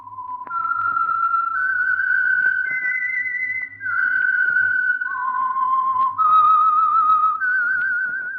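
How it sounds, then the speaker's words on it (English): A lone whistled melody, the theme signal of The Whistler radio program, a clear pure tune stepping through sustained notes over a faint steady background, with no talking. "That whistle is your signal for the Signal Oil Program, The Whistler."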